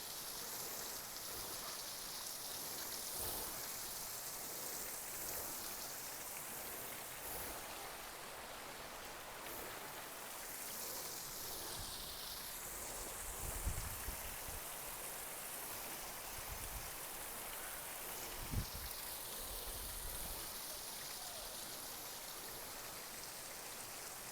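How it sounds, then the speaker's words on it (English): A small waterfall on a stream near Whitecourt, Alberta pours continuously, a soft, even rushing wash of water with occasional faint splashes, steady and fairly quiet throughout. "there's a stream of water coming down, which I would classify as a waterfall"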